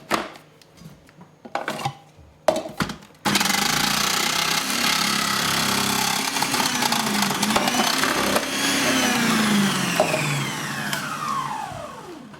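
A Kitchen Whiz food processor slices cucumbers for bread and butter pickles, roaring loudly and continuously with a grinding, rising-and-falling whine after a few sharp clunks and starts at the beginning.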